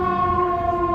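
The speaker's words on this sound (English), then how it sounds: "Here's the sit number 6 ambulance here with the police escort." An ambulance siren with a police escort on a Chicago street sounds as a loud, steady wailing tone with a low traffic rumble beneath it, heard without any talking.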